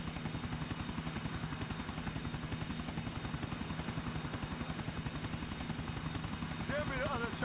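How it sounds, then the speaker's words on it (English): A helicopter in Grand Theft Auto IV thumps with rapid, steady rotor beats throughout, loud and continuous, with a brief higher-pitched game sound near the end. "There be the other chopper."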